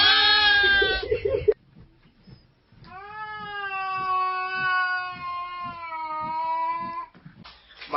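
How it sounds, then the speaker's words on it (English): Two cats meow, one after another: a short high mewing call and then a long, drawn-out, wavering meow lasting several seconds, close and loud, with quiet gaps around them. "My 2 kitty cats."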